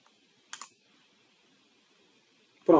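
Mouse clicks while working in SQL Server software, a short pair of crisp clicks near the start and a louder burst at the end, with quiet room tone in between.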